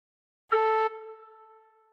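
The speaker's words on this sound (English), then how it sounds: "Cover hole 1 with finger 1 and blow gently once" A single tin whistle note played with only the top hole covered and blown gently, a clear steady tone lasting about a third of a second, then ringing on softly as it fades.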